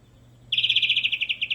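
A songbird bursts into a rapid, high, evenly pulsed trill, a frog-reel song phrase, after a moment of quiet, with a faint low hum underneath.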